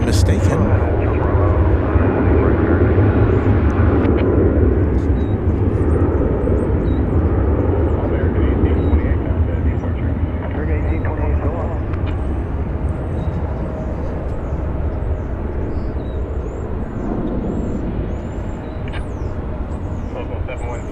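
An MD-11 airliner at DFW Airport makes a loud, steady engine roar as it taxis into a turn, heard from a distance throughout, with someone talking over it.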